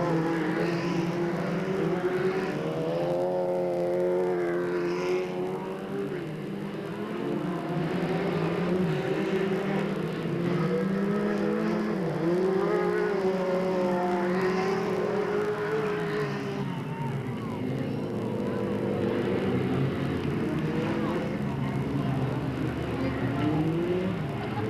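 Race cars on the final lap at Delta Speedway in 1997 roar continuously, engines rising and falling as they circle, with tire squeal and a distant, echoing track atmosphere throughout.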